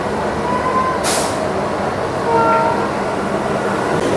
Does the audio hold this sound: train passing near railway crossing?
yes